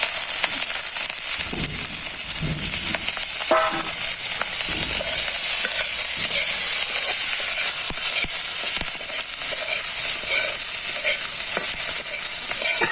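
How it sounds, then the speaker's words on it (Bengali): Panch phoron spices and chilies frying in hot oil in a simple village kitchen, a steady loud bright sizzle that runs without a break, with a few soft clinks and stirring scrapes near the start. "পাঁচফোড়ন মরিচ একসাথে দিয়ে দিলাম"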